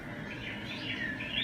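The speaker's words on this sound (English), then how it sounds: "Can you hear all the parrots?" Faint, distant bird chirps and tweets heard as parrot sounds at a Parrot Cay themed restaurant on a cruise ship, a brief soft chatter over quiet room ambience.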